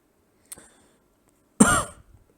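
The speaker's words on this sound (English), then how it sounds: "Now I'm getting a bit of a cough." A person coughs twice: a short light cough, then after a pause a louder, fuller cough that trails off, close and alone.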